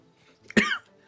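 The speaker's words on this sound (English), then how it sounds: "How am I coughing already?" A person who is sick gives a single sharp, close cough with a brief throaty rasp, alone in an otherwise quiet room.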